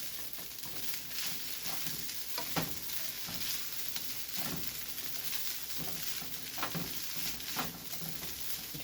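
Cold, day-old rice sizzles and crackles steadily in a hot pan while it is stirred for takeout-style fried rice. Scraping strokes come through repeatedly and up close, and no voices are heard.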